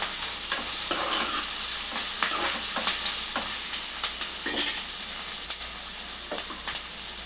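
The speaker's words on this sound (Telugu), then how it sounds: "ఈ అల్లం వెల్లిగడ్డ పేస్ట్ కొంచెం పచ్చివాసన పోయేంత వరకు వేయించుకోవాలి" Ginger garlic paste sizzles in a pan, frying loudly and close while a utensil stirs it with repeated sharp scraping clicks over a constant hiss.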